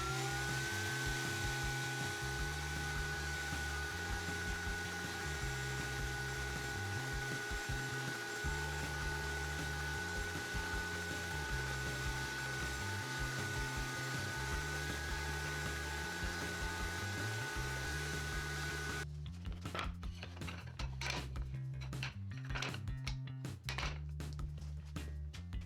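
A woodworking router cuts chamfers along 2x4 pine pieces. It gives a loud, continuous motor whine that hums steadily, then turns choppier and broken near the end as cuts start and stop.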